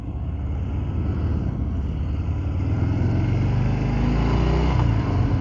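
Deep, throaty rumble of a 2023 Harley-Davidson Fat Bob 114 engine while riding, a steady low drone that swells slightly toward the end, with wind noise over it.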